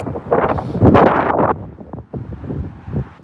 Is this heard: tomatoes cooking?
no